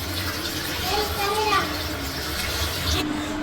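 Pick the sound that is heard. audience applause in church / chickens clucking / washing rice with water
washing rice with water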